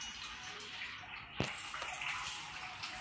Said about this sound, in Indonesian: Betul-betul ada bunyi macam di gua, oh. Itu air dia.